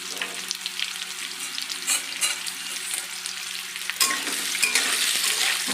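Potatoes dropped one by one into a pan fry in hot oil, a close sizzle with uneven surges that swells louder and fuller toward the end, plus faint clicks of handling.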